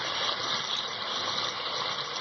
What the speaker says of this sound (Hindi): अब हम शोरबे के लिए 1 कप पानी डालेंगे।